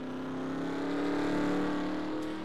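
An IROC race car on the Charlotte Roval winds its engine up, a steady rising drone that swells louder toward the middle, then eases off slightly as it carries on.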